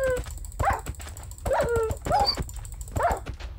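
Dog whimpering and yipping in a Minecraft horror game, several short whiny cries repeating in bursts over a low rumbling background.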